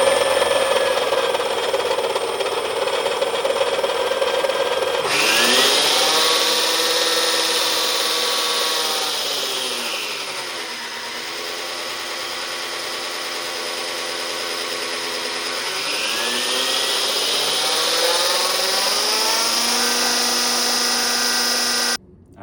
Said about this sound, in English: I can show you kind of how fast the reel spins